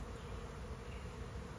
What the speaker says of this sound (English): there was something big, like a hornet type of thing, also trying to chase the bees